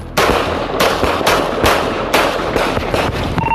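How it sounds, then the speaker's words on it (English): Handgun shots fired during a police foot chase, several loud sharp reports in quick succession over a steady background rumble, with no talk. "shots fired. He's still running northbound on Nebraska up to Winnebago. He's armed with a black handgun"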